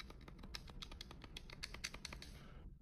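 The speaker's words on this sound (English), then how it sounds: "Listen to the click sound." ABXY face buttons on a GPD Win 5 handheld gaming PC, built with conductive silicone, give a quick series of light, close clicks in an uneven rhythm, then stop.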